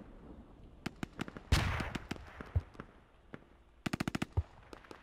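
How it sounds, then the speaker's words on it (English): Gunfire and explosions in a tactical multiplayer war video game: sharp scattered shots, a heavy blast with a decaying rumble, then a fast burst of automatic fire, all with no talking. "We're getting hit with mortars here."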